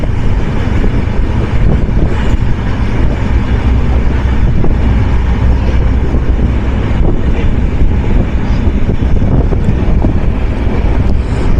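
Mohanagar Express, an intercity train running from Dhaka to Chittagong, passes on the opposite track, heard from inside a moving train as a loud, continuous rumbling roar with wind buffeting for the whole stretch.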